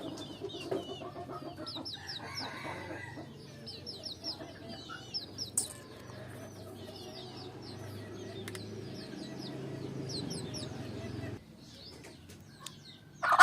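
Bantam crossbreed chickens cluck and chirp in scattered bursts around a yard, some close and some farther off, with a low background murmur and occasional louder calls.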